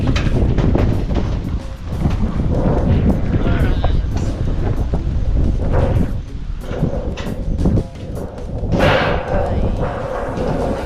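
Strong typhoon wind buffets the microphone in loud, continuous rushing gusts, with occasional thumps and flapping.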